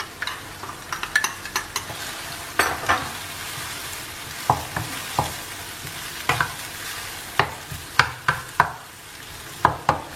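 A spice paste sizzles in a hot pan while a spoon scrapes and knocks against the metal in irregular bursts, close and clear, with no talking.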